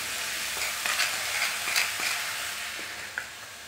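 Grated carrot, sugar and other halwa ingredients are stirred together in a hot pan after frying, giving a steady sizzle with occasional scraping strokes of the spoon, close and unaccompanied by speech.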